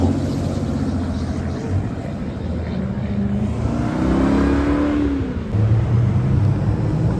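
A Dodge Viper engine revs hard and loud at close range, rising and falling in throaty bursts, then climbing again toward the end.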